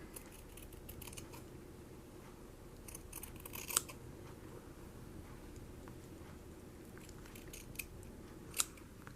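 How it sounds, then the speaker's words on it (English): Scissors snipping through a single layer of old shirt fabric, faint soft cuts with a few sharper close clicks of the blades in a quiet room. "So I'm just cutting through one layer."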